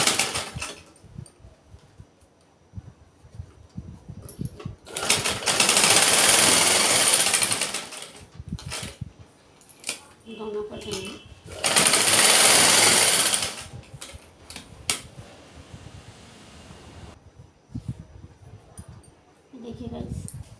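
A sewing machine stitches a sleeve design in two loud bursts of rapid whirring, each a couple of seconds long, separated by quieter handling noises and clicks, with a voice speaking in the pauses.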